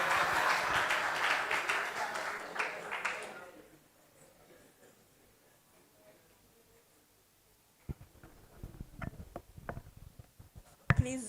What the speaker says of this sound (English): Please, a round of applause one more time.